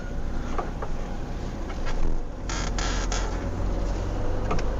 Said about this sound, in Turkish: Bu arabada beni rahatsız eden tek şey abi pedal. O gıcırdama.